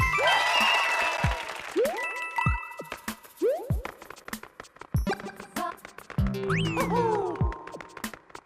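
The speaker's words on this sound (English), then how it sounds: "As you can probably hear, this game loves to applaud" Cartoonish applause and bright chimes from the video game New Super Mario Bros. U, mixed with bouncy jump effects and tinkling jingles that sound repeatedly across the stretch, with no one speaking.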